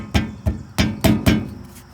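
Someone smacks the driver's side front suspension of a 1998 4WD Tacoma near the upper control arm. Five sharp, close knocks land in an uneven rhythm over two seconds, each with a short rattling decay and no talking.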